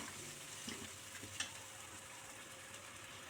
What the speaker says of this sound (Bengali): মশলাটা ভালো করে কষে নিতে হবে।